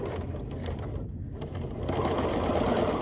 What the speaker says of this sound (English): And I do want to take a few stitches,